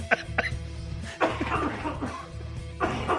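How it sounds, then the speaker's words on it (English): Several sharp coughs and chuckling bursts come up close among conversational voices, loud and irregular. "I can hear your cough on that one"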